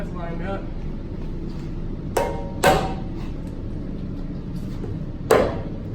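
Hammer blows struck through a wood block to line up an aftermarket bumper during a Jeep Wrangler frame chop install, three sharp knocks spaced a few seconds apart over a low steady hum.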